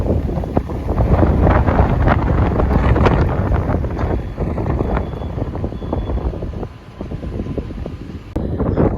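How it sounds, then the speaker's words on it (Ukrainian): Strong wind buffets the microphone continuously at a hilltop viewing platform on the Great Wall of China, a loud low roar with gusts rising and falling throughout. "Тут досить вітряно"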